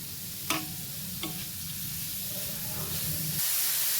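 Radish chutney ingredients, including beetroot, being stir-fried in a pan, a continuous close sizzle with a couple of sharp utensil taps early on, the hiss swelling louder near the end.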